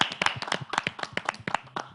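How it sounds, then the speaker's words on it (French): Clapping at a Mother's Day stage show as a participant is welcomed: a brisk run of distinct, fairly close hand claps from a small group, sharp and uneven, lasting a couple of seconds. "applaudissez pour accueillir Benjamin"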